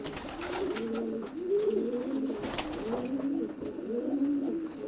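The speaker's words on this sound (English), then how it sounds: "And I must say these pigeons are credit to Bob." Racing pigeons of Jan Aarden bloodline coo repeatedly inside a stock section of a loft, with overlapping low, rolling calls from several birds close by, continuous throughout, with no talk.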